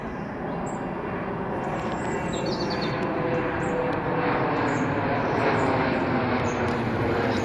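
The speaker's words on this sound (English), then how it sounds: "This is an Embraer Phenom 300." An Embraer Phenom 300 business jet passes overhead with a steady, broadband engine roar that holds loud and constant throughout, with faint bird chirps in the background.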